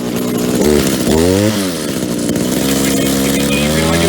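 A small two-stroke engine on an Echo SRM-2400 string trimmer, slightly in need of carburetor tuning, runs loud and close, its buzzing pitch revving up and dropping back to a steady drone.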